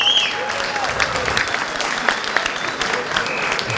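Guests at an open tournament awards ceremony applaud the entrants in a continuous, moderately loud round of clapping that carries on evenly from start to finish.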